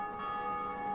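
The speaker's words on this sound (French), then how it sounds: "Oh, les cloches." Bells ring in Dark Souls Remastered, a sustained metallic tone with lingering overtones, held steady and fairly faint for about a second.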